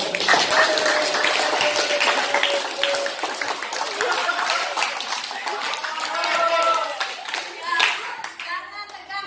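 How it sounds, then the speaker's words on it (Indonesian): Students in a high school debate class break into applause, a dense crowd of hand claps that runs loud and steady throughout, with voices and chatter mixed in underneath. "mari kita tepuk tangan dulu"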